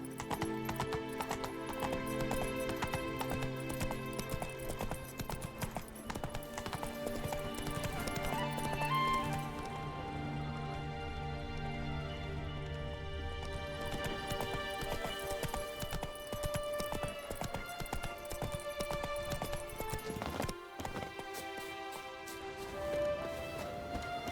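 A horse gallops steadily in The Witcher 3, hooves clip-clopping continuously over a busy game music and ambience bed, with a brief whinny and a momentary dropout near the end.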